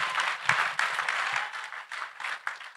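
Church congregation clapping for Jesus, a close, steady patter of many hands with a few sharper claps standing out, brief pauses between bursts and almost no voices.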